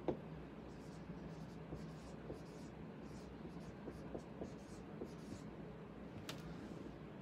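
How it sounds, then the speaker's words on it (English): Marker or pen writing on a board during a talk about extended fasting, faint scratchy strokes in short irregular bursts against quiet room tone, with one sharper tap near the end. "Let me write that in there."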